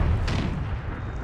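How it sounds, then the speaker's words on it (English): Demi-cannons trading artillery fire in the Empire 2 strategy game: a loud low boom followed by a rumbling rolling tail, with a dense continuous battle roar throughout and no talk. "it's going to start off with an artillery duel, as the demi-cannons are sure to blast each other"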